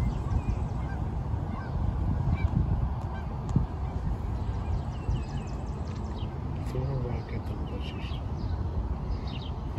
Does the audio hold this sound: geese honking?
yes